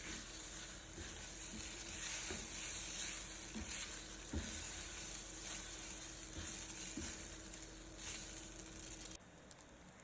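Pasta and broccoli sizzling and being stirred in a pan with oil and garlic: a steady, faint frying hiss with scattered soft scrapes and taps of a utensil, no talking.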